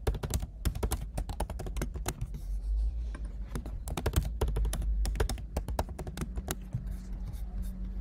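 Rapid, irregular keystrokes clatter on a computer keyboard nearby, bursts of clicks with short pauses between them as details are entered into a form.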